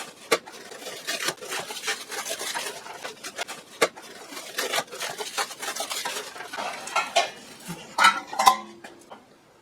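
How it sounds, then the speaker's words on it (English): Bag of sterling silver flatware being sorted by hand, with repeated clinks and jangles of metal utensils knocking together, close up, in irregular bursts and no talk. "Okay, found a bag of flatware"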